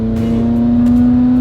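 Steady engine drone from inside a McLaren supercar on a ride, a strong constant hum with smooth cruising tone, no revving bursts, close and continuous.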